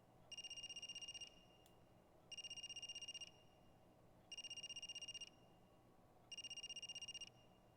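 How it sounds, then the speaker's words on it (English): Phone ringing in the video game AI: The Somnium Files: four evenly spaced bursts of a bright electronic trill, each about a second long with short gaps, clear over a low steady background. "A phone ringing?"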